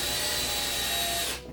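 A power drill bores through an IKEA kitchen drawer front, giving a steady high whine with a grinding edge that runs evenly for over a second and then cuts off abruptly.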